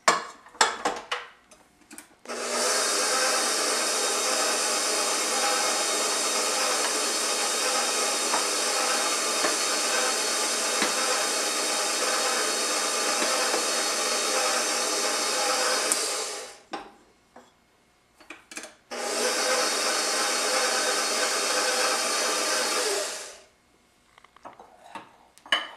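An electric stand mixer working pizza dough with all-purpose flour added a bit at a time, a loud steady motor whir running long, stopping briefly, then running again.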